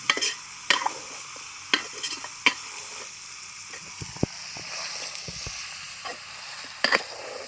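Village-style chicken curry is stirred in a pan, with a soft, steady sizzle broken by sharp scrapes and knocks of the spoon at irregular intervals, no talking.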